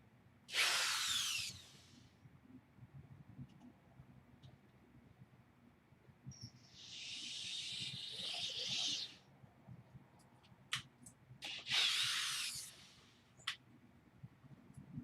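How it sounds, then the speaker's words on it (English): A power drill bores a small pilot hole while a screen door is installed, in three short bursts of whirring with quiet handling noises in between. "So I pre-drilled this just a little bit of a hole."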